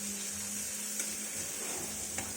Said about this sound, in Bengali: এবার একটু নাড়িয়ে নেব।